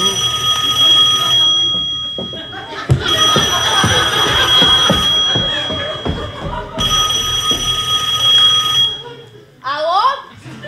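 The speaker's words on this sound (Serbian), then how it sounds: "Telefon! Telefon zvoni!" Telephone ringing during a live stage play, a steady bright electronic ring sounding in bursts from the stage, with actors' voices, audience noise and stage sounds around it.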